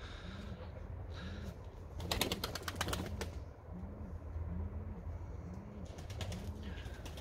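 Pigeons coo in repeated soft, rounded calls at a steady pace against a low hum, with a burst of fluttering wings and clattering sounds in the middle.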